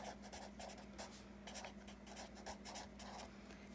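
Math is written out on a board with quick, scratchy strokes in an irregular rhythm, faint and close, while rational zeros for a polynomial are listed, with no talking.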